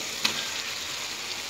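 Potatoes dropped into a pan of fried spice masala in oil, a single soft impact followed by a steady close sizzle without speech.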